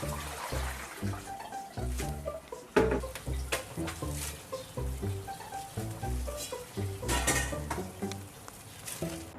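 Greens tossed into a pot of simmering homemade chop suey with sardine, with steady stirring, sizzling and bubbling and frequent clinks of a utensil against the pot, close and continuous throughout.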